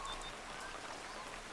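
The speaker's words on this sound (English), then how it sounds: "I really like the rain sound, like ambience, on this planet." Steady rain patters across a planet's surface in Helionaut, a soft, even wash of drops with no other sounds breaking through.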